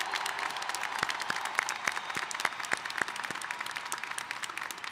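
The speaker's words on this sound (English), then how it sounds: "Can we get a round of applause?" Graduates receive a steady round of applause at a university commencement ceremony, dense clapping from a large crowd with some sharper individual claps standing out, sustained evenly throughout.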